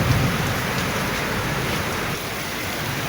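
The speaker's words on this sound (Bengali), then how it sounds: "দেখেন প্রচুর পরিমাণে বৃষ্টি হচ্ছে এখানে" Heavy rain pours down in a loud, continuous roar of dense droplets hitting surfaces, with no voices over the steady downpour.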